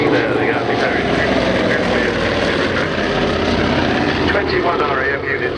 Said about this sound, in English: named after the 18th century First Lord of the Admiralty, Lord George Anson